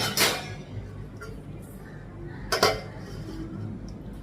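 A lid goes onto a pot of lentil curry in a home kitchen, giving two sharp metallic clinks a couple of seconds apart against a quiet room background.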